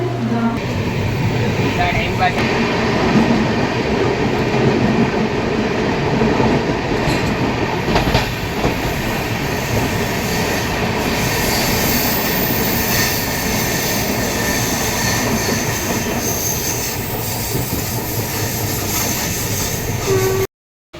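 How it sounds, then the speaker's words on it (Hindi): Trains at Dadar railway station platform in Mumbai, a continuous loud rumble and clatter of rolling rail cars with steady wheel noise that lasts about twenty seconds and then cuts off abruptly. "फाइनली मैं आ चुका हूँ दादर प्लेटफॉर्म पे, दादर रेलवे स्टेशन।"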